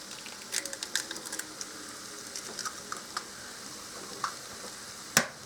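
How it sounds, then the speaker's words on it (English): Eggs cracked onto hash in a skillet, then soft frying sizzle under a few scattered taps and clicks, with one sharp crack near the end. "now I'm going to crack eggs right on the top of these"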